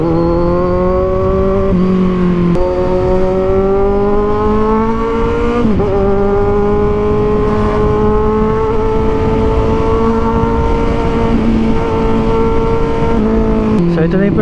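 A 2023 Kawasaki Z1000R with its 1000cc inline-four engine, loud and close, holding a steady revving drone that rises in pitch across gear changes, with brief shifts and dips throughout under constant wind roar.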